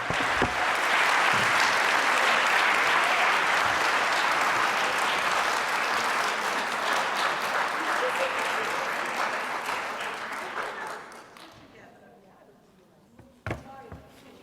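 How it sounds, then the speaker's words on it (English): An audience gives a sustained round of applause for a panel at an education event, dense clapping that holds steady for about ten seconds and then fades out, with a few stray claps after it. "I think we can give them a round of applause"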